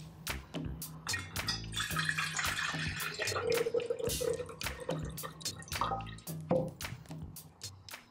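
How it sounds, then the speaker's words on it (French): Water poured from a refilled watering can onto houseplants, drips and splashes on leaves and soil, with steady trickling and scattered droplets close by, no talk. "Alors j'arrose abondamment mes plantes."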